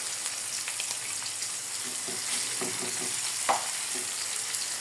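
Onion and chili fry in a pan, a soft, steady sizzle with faint stirring taps and one brief clink near the end, quiet and close.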